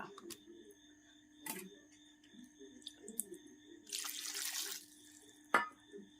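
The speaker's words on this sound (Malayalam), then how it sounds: "വെള്ളം നമ്മൾ പാകത്തിന് ഒഴിക്കണം" Water runs from a tap into a cooking pot for a dried mackerel curry in a Kerala village kitchen, a single rushing pour of about a second amid scattered soft clinks and kitchen clatter.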